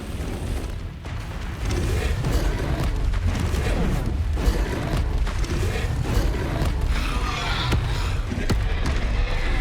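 Bombarda explosion spell cast in the Hogwarts Legacy video game, a loud, continuous rumble of booming blasts and crashing effects that fills the whole stretch, with voices speaking over the noise.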